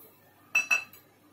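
A spoon mixing powdered sugar into cooled roasted gram flour in a bowl gives two sharp clinks against the bowl in quick succession, then a softer tap, in an otherwise quiet room.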